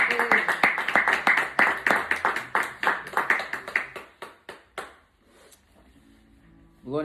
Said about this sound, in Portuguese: Vamos aplaudir o Senhor pela palavra.